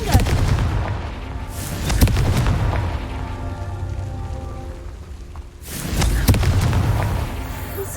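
Two heavy booming blasts from the Confringo fire spell in Hogwarts Legacy, each a loud burst that rumbles and decays, with a quieter stretch between them and no speech.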